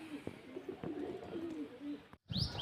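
Pigeons coo softly nearby in low, repeated throaty warbles, with a brief gap before another bird call near the end.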